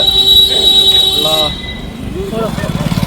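A train rolls through a railway station, its steady rumble and tonal wheel noise running for about a second and a half before easing into a softer, rhythmic clatter; people talk over it.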